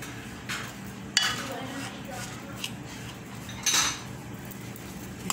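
A spoon scrapes and clinks against a bowl while graham cracker crust mixture is stirred, a few sharp taps standing out over a quiet background as a person talks.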